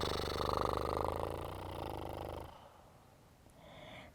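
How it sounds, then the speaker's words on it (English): A long, vibrating exhale out through the mouth during a Kundalini and vinyasa yoga flow, loud and buzzing for about two and a half seconds, then cutting off into quiet room tone. "You're welcome to take a vibrational exhale through the mouth."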